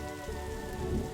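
Rain falling at night in a spooky mystery video game, a steady close patter of drops over a low rumble and faint sustained tones, with no talking.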